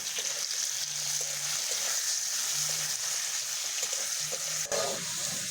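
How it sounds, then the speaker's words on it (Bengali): Potatoes fry in hot oil with a little salt and turmeric for a mashed winter-vegetable bhorta, giving a steady close sizzle throughout with a few faint clinks and no talking. "ভালো করে আলুটাকে ভেজে নেব।"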